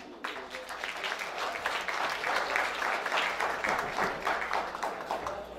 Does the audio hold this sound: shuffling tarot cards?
no